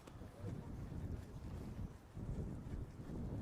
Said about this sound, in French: Et beaucoup de vent, un vent qui vient vraiment depuis le clubhouse qui est très transversal.